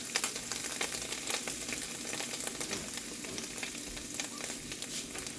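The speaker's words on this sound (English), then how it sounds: "You want to sprinkle it like that on the pan, as we're trying to not create lumps, but get every piece of the flour coated by butter." Flour sprinkled into melted butter in a pan for sausage gravy, a soft continuous sizzle with faint crackles and scraping stir sounds, quiet and close, without talk.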